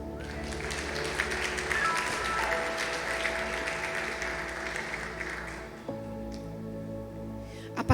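Applause from a church congregation during a sermon, a broad steady wash of clapping with sustained organ or keyboard chords underneath, fading slightly toward the end.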